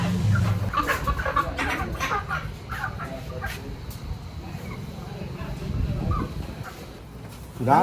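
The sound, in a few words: chickens clucking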